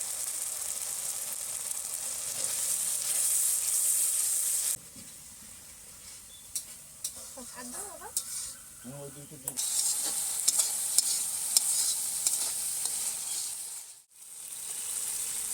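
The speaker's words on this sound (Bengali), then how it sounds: "আদা রসুন বাটাটা এটা বেশ ভালো করে আমার কষিয়ে নিতে হবে" Mutton is sautéed with ginger-garlic paste in a pan for a light Bengali-style curry: loud steady sizzling with stirring scrapes, a quieter spell in the middle with a few clinks, then frying resumes strongly.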